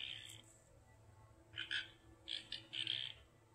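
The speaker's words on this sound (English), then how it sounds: "So they're ribbiting right now." Faint, short chirping croaks come in a few quick bursts against a quiet night background, somewhat distant.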